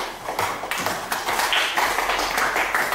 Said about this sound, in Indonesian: Silakan berikan aplaus untuk kelompok 1